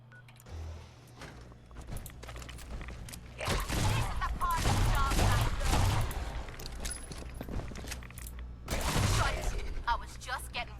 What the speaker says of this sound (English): Exterminator's lever action rifle.